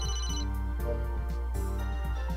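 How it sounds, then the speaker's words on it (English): A phone rings in The Smiling Man video game, a repeating electronic ringtone in short bursts over steady background music, loud and close. "Somebody's calling me."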